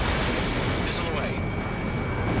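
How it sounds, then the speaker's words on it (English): Missile launch in the Ace Combat 7 flight combat game: a brief rushing whoosh rises over steady loud jet engine roar, with cockpit radio chatter running throughout. "Missile away."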